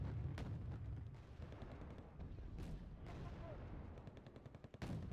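Battle gunfire from the real-time strategy game Wargame: Red Dragon, with a motorized unit firing into an enemy flank: a dense, continuous rumble of shots and distant booms, with sharper cracks here and there, fairly faint throughout.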